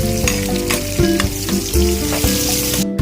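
Garlic and onion frying in hot cooking oil for menudo produce a loud, dense sizzle with crackling spatters. A low steady hum runs underneath, and a few stirring knocks break in. No one speaks.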